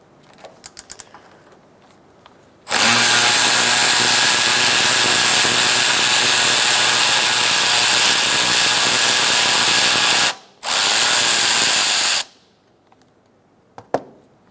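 A power tool whirs loudly and continuously for several seconds, stops briefly, then runs again while loosening battery hold-down bolts and nuts on a 2002-2006 Toyota Camry, with faint clicks of tools before and after.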